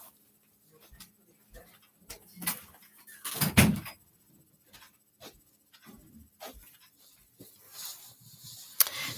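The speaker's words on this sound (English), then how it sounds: "let me close this door." An indoor door is pulled shut with one solid thud partway through, surrounded by light rustling, shuffling and soft clicks in an otherwise quiet room.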